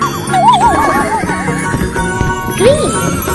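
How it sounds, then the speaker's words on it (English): A horse whinny sound effect plays from a wooden animal toy soccer ball, a wavering high neigh over a busy background, followed by a shorter rising call near the end. "Horse."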